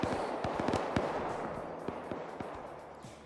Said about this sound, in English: now you're hearing these guys basically opening fire on those dudes